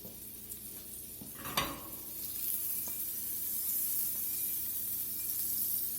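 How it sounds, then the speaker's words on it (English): Butter sizzles in a heated non-stick skillet, a soft steady hiss with one brief clatter early on, the frying growing slightly louder and continuing alone. "I'm going to add just a little bit of butter to the skillet"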